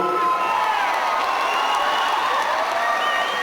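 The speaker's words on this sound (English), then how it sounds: "Let's have a round of applause for these two." A crowd at a charity boxing match claps and cheers for the two fighters before the bout. Whoops and shouts ride over steady, dense applause that holds at full volume throughout.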